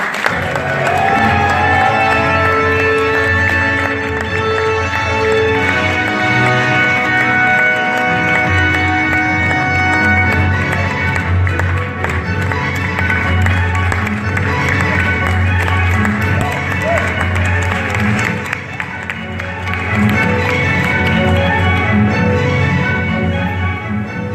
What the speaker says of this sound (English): please, a round of applause for director Shankar